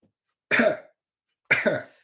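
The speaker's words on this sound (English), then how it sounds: "cough a bit" Two separate coughs about a second apart, each a short harsh burst with no talking around them.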